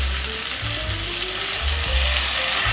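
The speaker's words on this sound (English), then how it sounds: "Fry them together around a minute" Vegetables frying in a pan for Korean-style borscht, a loud, close, continuous sizzle and crackle with occasional stirring scrapes and no talk.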